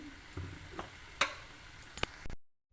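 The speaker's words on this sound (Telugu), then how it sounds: "ఇప్పుడైతే నేను స్టవ్ ఆన్ చేస్తున్నాను" A kitchen gas stove knob clicks several times while being switched on, sharp isolated ticks spaced apart over a quiet background, ending in a brief silence.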